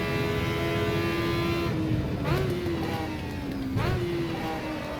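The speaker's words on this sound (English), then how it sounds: "Just hear that little ting as it revs really hard." Aussie Racing Car engine in the Automobilista sim, racing at Adelaide, revving hard with rising tones and quick upshifts, a loud continuous engine note close up with no talk.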